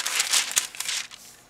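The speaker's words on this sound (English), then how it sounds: "I'm going to actually put down a little bit of parchment paper because I'm using glitter." Parchment paper crinkles as it is laid down on a crafting surface for a resin coaster project, a few dry crackly rustles over about a second and a half, close and fairly quiet, with no talk.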